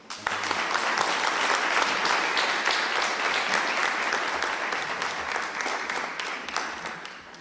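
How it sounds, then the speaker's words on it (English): Warm audience applause at a government funding announcement, a full, even wash of clapping from many hands that rises quickly, sustains, and slowly tapers. "give a warm round of applause to Saeed and the Chicago Youth Boxing Club"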